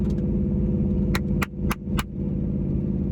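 A rally race car launching off the line at Redwood Rally, its engine droning loud and close with several sharp gear-shift cracks in quick succession, then settling into a steady roar.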